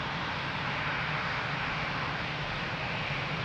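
An airplane at Lisbon Airport gives a steady, broad engine roar at moderate distance, holding constant without change.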